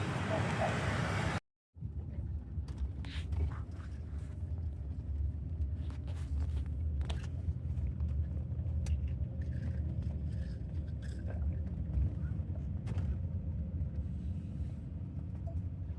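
Steady low engine rumble of a sleeper bus on the road to Nha Trang, continuous and fairly loud throughout after a brief dropout near the start, with scattered faint clicks and rattles above the drone.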